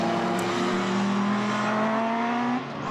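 A Formula BOSS race car roars past on the Mondello circuit, its engine note held high and strained, then fading slightly as it pulls away, with no one speaking.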